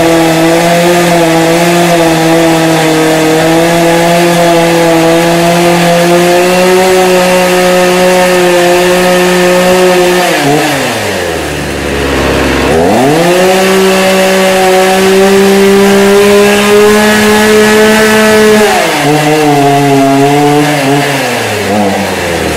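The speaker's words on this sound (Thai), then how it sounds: "ให้ลูกค้าเร่งเครื่องให้เต็มที่นะครับผม" A 0.8 horsepower KANTO KT-CS2000E chainsaw engine screams at high revs, briefly dropping to a low idle midway before roaring back up to full throttle.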